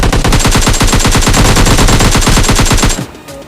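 AKM assault rifle fire in the mobile game PUBG Mobile Lite, a loud, close, rapid automatic burst of evenly spaced shots lasting about three seconds before cutting off abruptly, with no talking.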